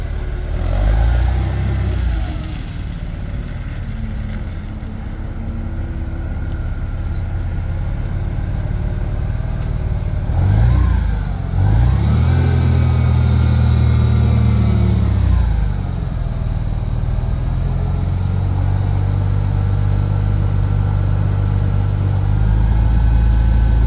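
A Hyster H90XLS 9K pneumatic-tire forklift engine holds a steady close idle, then revs up in several surges as the mast raises, a loud continuous drone with pitch rising and falling and no talk over it.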